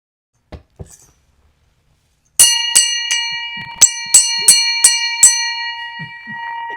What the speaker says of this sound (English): She has so much fun with that bell.